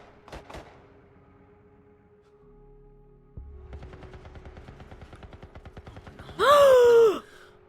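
Rapid automatic gunfire in the video game The Last of Us rattles in a steady burst of several seconds. A loud breathy gasp or sigh follows right after the shooting.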